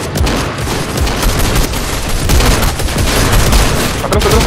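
Loud, continuous gunfire from the video game Fortnite during a squad match, a dense barrage of rapid shots and booms running unbroken throughout with no talk over it.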